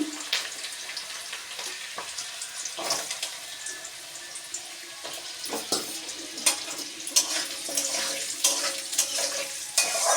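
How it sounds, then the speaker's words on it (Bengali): Chopped, washed potatoes frying in hot oil, a steady sizzling hiss with scattered stirring clinks and scrapes, close and fairly quiet, with no talk. "এই আলুটা আমি তেলের মধ্যে দিয়ে দেবো।"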